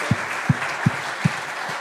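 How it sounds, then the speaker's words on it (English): Applause from a church service congregation, a steady wash of clapping with a few louder, evenly spaced thumps standing out. "why don't we give him a round of applause?"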